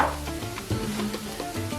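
Garlic and black pepper frying in a pan while being stirred, a continuous sizzle with scraping utensil strokes against the pan, close and fairly loud, with no talking.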